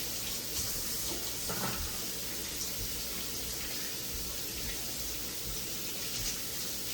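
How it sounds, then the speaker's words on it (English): Tap water runs steadily into a kitchen sink while pork chops are rinsed under it, a close, even rush with faint splashing changes and no talk. "So you just want to rinse them off until you get them nice and clean."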